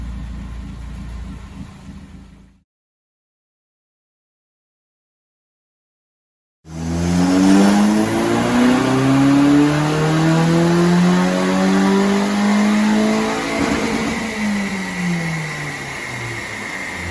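A Mitsubishi Colt CZT engine on a dyno, fitted with new NGK iridium spark plugs, fires up after a few seconds of silence, then revs repeatedly with rising and falling engine tones, loud and close.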